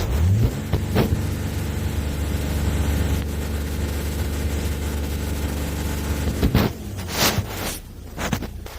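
A 2010 Mercedes E350 with DPF fault codes runs with its engine held at raised revs during a DPF clean: a loud, steady, droning hum that continues throughout and wavers near the end.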